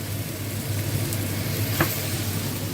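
Butter sizzling in a pan while cooking spaghetti bolognaise: a close, steady crackling fry throughout, with a brief sharper spit midway.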